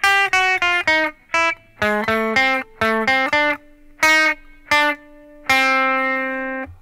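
Guitar plucking the Super Mario Bros. theme from measure 11 with clean, separate notes in a bouncy rhythm. Short rests fall between phrases, and a final note rings out. The playing is close and clear, with no voices over it.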